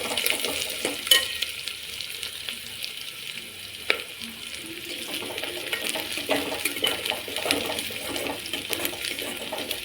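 Onions and green chillies sautéing in a pan, a continuous close sizzle broken by a few sharp utensil clicks and stirring scrapes.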